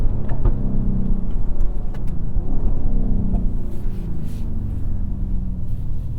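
Engine of a 2022 Mercedes-AMG GLE 53 SUV, a steady loud rumble with slight rises in revs, heard continuously from inside the cabin.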